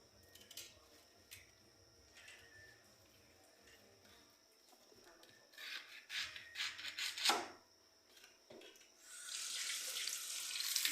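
Vegetables being prepared for Haitian epis seasoning: soft handling noises and brief rustles come first, then a kitchen tap runs, and a loud, steady rush of water fills the final seconds.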